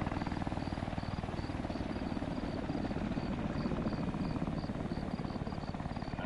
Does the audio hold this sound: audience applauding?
no